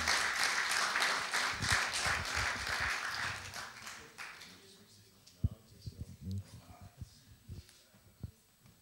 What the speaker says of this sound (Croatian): Možemo li Jeffu ukazati počast i dobrodošlicu jednim velikim aplauzom?